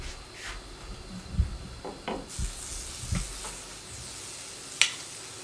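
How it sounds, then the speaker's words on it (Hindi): A lachha paratha cooks with ghee on a tawa over medium flame, giving a soft continuous sizzle broken by a few scraping and knocking sounds of handling, close and moderately quiet with no talk. "दूसरा पराठा हम तवे पर डालने लगे हैं इस तरीके से"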